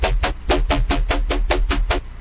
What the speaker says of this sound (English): So yeah, basically a hybrid trap bass.